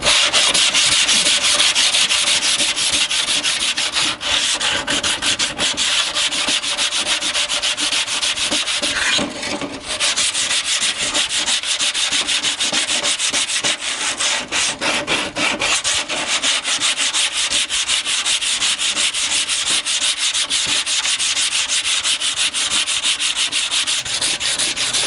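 Steady, loud scrubbing of rust off an old free grill, a continuous harsh rasping that runs almost without a break for about 25 seconds, with only a brief dip near the middle.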